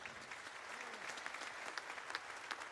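An audience applauds a jazz band's clarinet soloist in a quiet, distant wash of clapping with a few sharper individual claps standing out.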